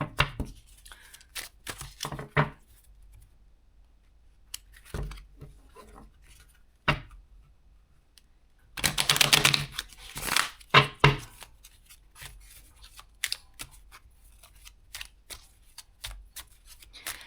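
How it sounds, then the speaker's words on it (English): Tarot cards shuffled by hand in a quiet room, heard as short dry rustling and snapping bursts with pauses between them. A denser flurry comes near the middle. "I like to really shuffle those in there."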